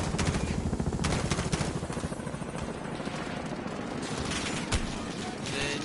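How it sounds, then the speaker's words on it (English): Heavy machine-gun fire in the video game Modern Warfare, dense rapid bursts over a constant rumbling battle din, loud and continuous throughout without a break. "Then you got the machine gun firing at you pretty hard."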